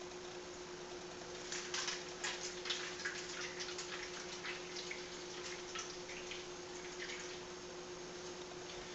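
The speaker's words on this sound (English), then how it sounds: "take some hot water. You could just get water from your kettle or boil it on the stove or whatever, and fill up the pan with the ramekins in it about halfway" Hot water streams into an aluminum pan around ramekins, a soft continuous pour with faint splashing and trickling over a steady background hum.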